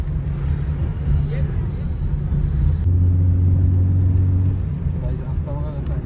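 Car driving on a steep ghat road, heard from inside the cabin: a steady low engine and road rumble with wind noise, a deeper hum midway, and faint voices in the background.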